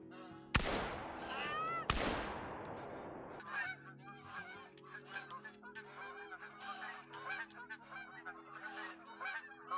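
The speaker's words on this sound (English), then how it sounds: "when you first come into a zone, it's just gonna be chock full of geese" Canada geese in the hunting game theHunter: Call of the Wild honk repeatedly at middle distance, a busy flock calling in quick overlapping bursts, opened by two sharp gunshot cracks.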